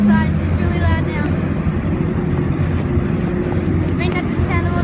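Loud, steady low engine drone aboard a ferry, a continuous rumble with a tonal hum that runs through the whole stretch, with voices speaking over it.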